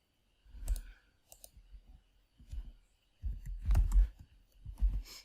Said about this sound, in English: Then I have typed N and hit enter.